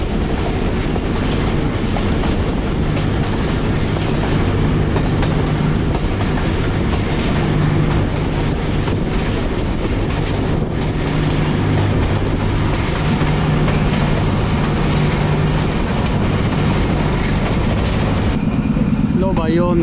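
Sialkot Express runs slowly, around 20 to 30 km/h near Narowal, with a loud, constant rumble and clatter of wagons heard up close from on board, steady throughout.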